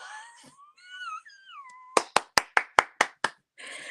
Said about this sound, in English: everybody give me a little round of applause